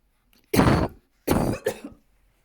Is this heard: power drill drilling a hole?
no